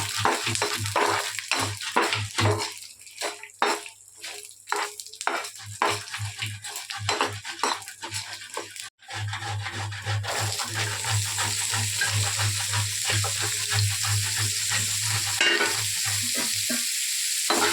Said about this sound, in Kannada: ಮೆಣಸಿನ್ಕಾಯಿ, ಬೆಳ್ಳುಳ್ಳಿ ಎಲ್ಲ ಚೆನ್ನಾಗಿ ಫ್ರೈ ಮಾಡಬೇಕು.